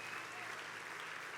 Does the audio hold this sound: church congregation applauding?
yes